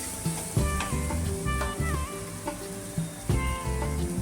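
Shredded cabbage drops into hot oil with turmeric and sizzles briskly at close range, with short spoon-stirring knocks breaking up the frying hiss.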